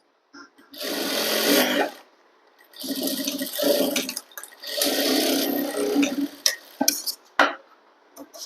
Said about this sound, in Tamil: ரெண்டு தையல் போட்டுருங்க அதில்